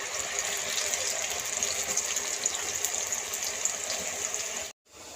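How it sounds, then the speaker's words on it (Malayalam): Jackfruit pieces dropped into hot oil for a snack fry with a steady, dense hiss and crackle that stays even throughout, then cuts off abruptly near the end. "എണ്ണ ചൂടായിട്ടുണ്ട്. നമുക്കിതിലേക്ക് ചക്ക ഇട്ട് കൊടുക്കാം."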